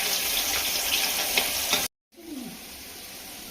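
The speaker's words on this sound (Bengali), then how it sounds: "মাছগুলো ভালো করে একটু ভাজা হয়ে গেলেই তুলে নিতে হবে" Hilsa fish pieces lightly frying in a pan, a dense close sizzle that cuts out abruptly for a moment, then resumes quieter with a brief scrape, no voices.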